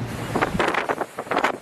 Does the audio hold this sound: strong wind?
yes